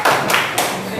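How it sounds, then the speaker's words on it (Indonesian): Applause in a school classroom: a few loud, sharp bursts of clapping close by, each dying away quickly. "tepuk tangan bagi kita semuanya"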